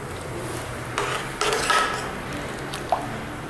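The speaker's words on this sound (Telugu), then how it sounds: "ఇవన్నీ వేసి ఒకసారి కలిపి" A spoon scrapes and clinks against a pot while bagara rice is stirred together with coriander powder, a few soft scraping strokes and one light metallic tap.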